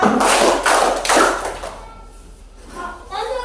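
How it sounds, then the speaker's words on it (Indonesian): Schoolchildren in a class clap in three quick group bursts, loud and close, followed by a quieter stretch with faint voices. "Tepuk 3"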